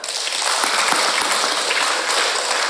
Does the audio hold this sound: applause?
yes